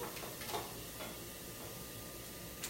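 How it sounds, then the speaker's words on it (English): Whisk stirring onion and garlic in oil in a pan, a steady sizzle with soft scraping strokes and a few brief clinks, close by, no talk. "where did my whisk go? Here we go. I'm going to stir that up really quick"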